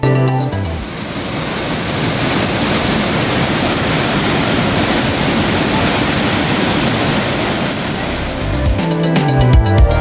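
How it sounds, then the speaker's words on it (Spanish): The Velo de Novia waterfall in Chiapas, with a 120 m free drop, roars as a dense, continuous rush of falling water, loud and steady throughout without any talk. "hasta llegar a la cascada Velo de Novia, con sus impactantes y majestuosos 120 metros de caída libre"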